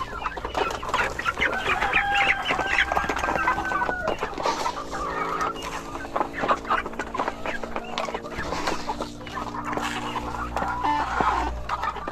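Egg-laying chickens cluck steadily throughout, a busy flock close by with overlapping calls and some rooster-like cries, no talking.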